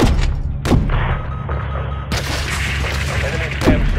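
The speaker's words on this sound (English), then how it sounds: "Hit that SAM site with a missile" Explosions and gunfire from a missile strike on an enemy SAM site in the video game Call of Duty: Modern Warfare III (2023), with a sharp boom near the start, a second blast midway and steady rumbling combat noise throughout.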